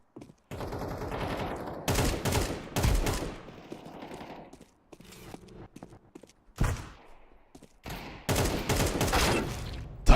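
Gunfire in a video game played on Nobara 42 Linux, with bursts of rapid automatic fire and single loud shots in several clusters separated by quieter gaps, close and punchy.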